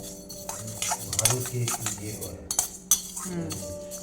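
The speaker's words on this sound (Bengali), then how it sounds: "এবারে আমরা মুগ ডালটা একটু শুকনো খোলায় ভেজে নেব" Dry mung dal rattles and scrapes as a spatula stirs it around a dry pan during roasting, with scattered metallic clinks and taps.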